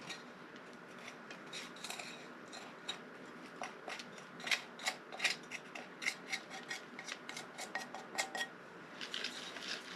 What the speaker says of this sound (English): I am going to get the soil out of this pot.